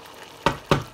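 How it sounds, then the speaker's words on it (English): Oil cooking in a covered pot for vegetable soup, with two quick, loud sizzling bursts over a soft background crackle. "Allow the oil to cook."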